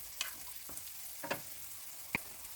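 Ham fries to crispy edges in a pan with a soft steady sizzle, punctuated by a few quick clicks and scrapes from stirring.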